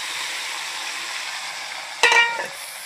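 Shrimp curry tipped into a pan of hot oil with onions and cumin, a faint steady frying hiss broken by a short loud sizzling burst that quickly fades.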